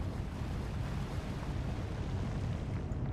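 Torpedo spread fired from a submarine in the Atlantic Fleet naval game, heard as a steady, rushing wash of water and low rumble that holds evenly throughout at moderate volume.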